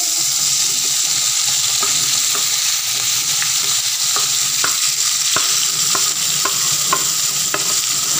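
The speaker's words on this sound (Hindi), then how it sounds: "तो मेथी डाल देते हैं।" Fenugreek leaves and potatoes frying in a pan, with a constant bright sizzle and a series of sharp clicks from a spoon stirring against the pan, close and without speech.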